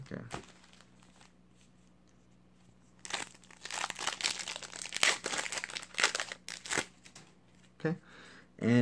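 Crisp, rapid riffling and flicking of Shining Victories trading cards being shuffled in bursts, close by, with quiet stretches between and a faint steady hum underneath.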